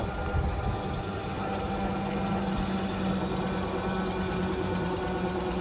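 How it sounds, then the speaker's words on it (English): Large commercial flywheel generator spinning down after being switched off, a steady mechanical hum with dense rattling vibration and low tonal drone, continuous and fairly loud throughout with no talking. "Once the machine is off, it will run as slow as it can and then it switches off"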